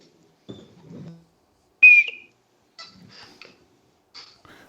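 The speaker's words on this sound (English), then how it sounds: "Stare, did you bring your crime whistle?" A short, shrill whistle is blown once, with scattered speech before and after it.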